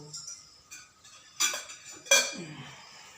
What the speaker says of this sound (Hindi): खूब आराम से रखिए मूर्तियों को रखने की आवाज यहाँ तक ना है